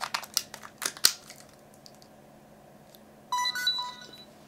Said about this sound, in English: It's a good noise to hear. So the camera did power on.